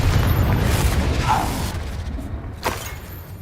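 A Confringo fire spell exploding in Hogwarts Legacy, a deep rumbling boom with a sharp burst near the end, loud and close over steady game noise.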